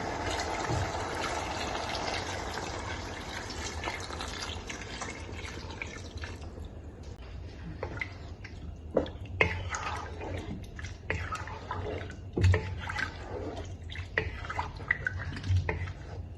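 Water pours and splashes into a pot of potatoes, then tapers into irregular drips and small splashes, fairly quiet with no voices.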